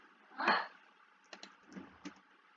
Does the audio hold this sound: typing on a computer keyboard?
yes